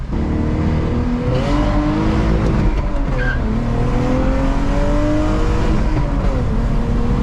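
A Lexus IS300 drift car with a manual swap roars steadily, its engine pitch climbing through the gears in rising sweeps, loud and close, with road and tire noise underneath.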